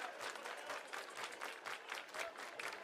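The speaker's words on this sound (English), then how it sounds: "Crowd starting to get into it." Baseball crowd at a college game in Bloomington applauding and cheering during a full-count at bat, a steady wash of clapping and crowd noise, distant and quiet.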